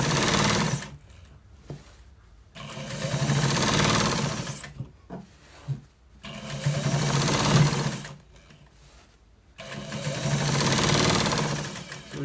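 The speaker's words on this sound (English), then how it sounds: "So we are stitching that one too." A sewing machine stitches white trouser fabric in loud, fast mechanical bursts of several seconds each, separated by brief pauses, close up and with no voices.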